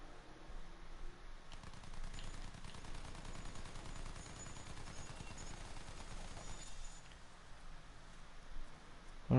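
Steady, dense video-game gunfire, a continuous rattling stream of shots held at a moderate level throughout, with a slight thinning near the end.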